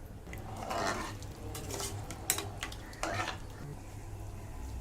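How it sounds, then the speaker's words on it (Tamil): A spoon scraping and stirring mutton curry inside a pressure cooker pot, with soft sizzling and scattered clinks over a low steady hum. "இப்போ நல்லா கிண்டி விட்டுறலாம்"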